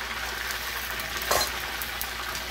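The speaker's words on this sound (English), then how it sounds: "then you give it a little stir" A spatula stirring food in a sticking, sizzling pan, with one short scrape standing out over a steady background fry.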